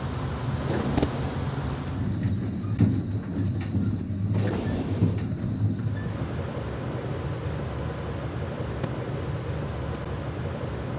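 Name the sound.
moving train in the video game Splinter Cell: Pandora Tomorrow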